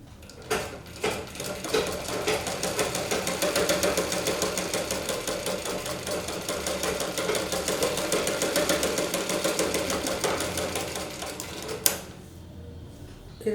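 A sewing machine stitches the front piece of a blouse, running in a fast, even mechanical rattle for about ten seconds before stopping with a sharp click, close and clear with no talking.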